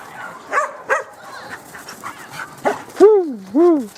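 Dogs bark and yelp near a workshop, a few sharp barks followed by two longer, rising-and-falling howling whines.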